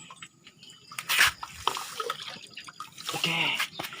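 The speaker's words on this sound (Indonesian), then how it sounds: "Oke, kita lanjutkan siram." Water splashes and pours in short bursts while hydroponic vegetable plants such as chili and eggplant are watered, close and moderately loud, with brief speech in between.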